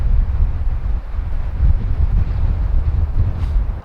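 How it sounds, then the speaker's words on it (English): Strong wind gusts at about 15 knots, rising to 25, in a loud, low buffeting rumble that batters the microphone steadily throughout. "the wind is getting a little bit crazy"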